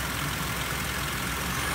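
A 2004 Ford Freestar engine idles steadily with a slight tick, a continuous broadband hum with no talking over it.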